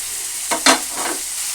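Bottle gourd pieces sizzle steadily in a pan, a close, continuous frying hiss with a couple of brief louder bursts as the pieces are stirred, no voices.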